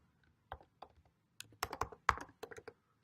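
Keys clatter on a computer keyboard while a web address is typed into a browser, irregular bursts of quick clicks building to a denser flurry, close and moderately quiet, with no voice.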